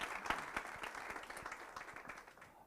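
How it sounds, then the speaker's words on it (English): Audience applause after a speaker is introduced at a banking talk, a steady wash of many hands clapping that fades toward the end. "Mr. Thapelo Maloba, round of applause."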